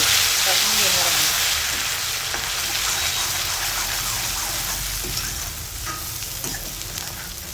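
Vegetable tempering sizzles loudly in hot oil for a taro and pea masala fry, a dense, steady crackle that fades slightly toward the end, with no voices over it.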